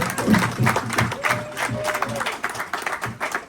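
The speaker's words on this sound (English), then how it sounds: "you should give yourselves a round of applause, really" Audience applause at an interview event aboard the 80s Cruise, a steady patter of clapping from a crowd filling the room, mixed with voices and chatter throughout.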